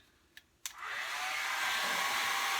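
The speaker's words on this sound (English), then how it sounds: "it's just a regular hair dryer" Two brief clicks, then a hair dryer switches on and blows with a steady, loud rushing whoosh that continues to the end.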